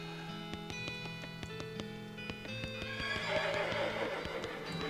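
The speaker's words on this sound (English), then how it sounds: "You behold a pale horse, like absurdly pale." Video game horse sound from West of Loathing, a whinny ringing out over a steady layered game music bed, with a brighter swell of busy texture near the end.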